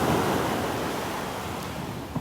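Ocean waves break on a sandbar off Delnor-Wiggins beach, a steady broadband roar of surf with some wind noise across the microphone, continuous and fairly close, with no voices.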